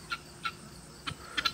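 Free-range birds kept with a chicken tractor call out in a few short, faint bursts over a quiet outdoor background, with a quick double call near the end.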